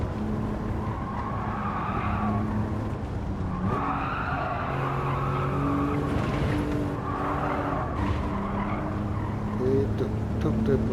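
Low-powered car in Gran Turismo 7 lapping the Nordschleife, a steady engine drone rising and falling through the gears, with tire skids mixed in and someone talking over it throughout.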